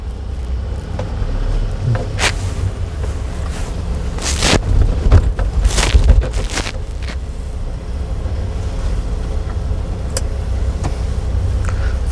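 A manual car climbing a hill under light throttle, its engine a steady low drone with rumbling road and wind noise throughout and a few brief louder bumps partway through.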